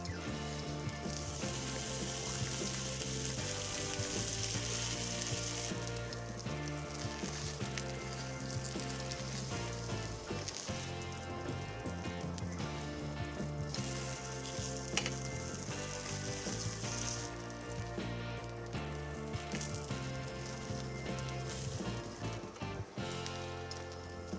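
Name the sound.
mortadella slice frying in oil in pan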